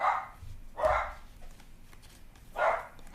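Several puppies bark in three sharp, close bursts with short pauses between them, loud and clear with no talking over them.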